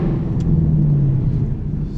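Ford Mustang GT with an H-pipe exhaust heard from the cabin on the road, a low steady engine rumble that swells slightly midway before settling back.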